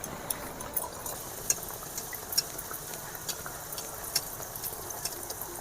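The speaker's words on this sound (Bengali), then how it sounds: "আবার একটা ভেজে নেব" Pea kachori deep-fries in hot oil with a steady, close sizzle, dotted with small pops and crackles throughout.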